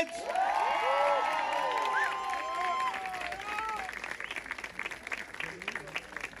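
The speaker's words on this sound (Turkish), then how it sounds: "bizler de çok kuvvetli alkışlarla şahitlik yapalım mı?" Applause and cheering from a crowd witnessing a staged wedding vow in a commercial, with strong clapping, whistles and shouts peaking early, then a steadier patter of claps that thins toward the end.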